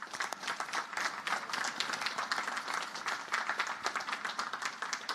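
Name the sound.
audience applauding distinguished Naval Academy graduates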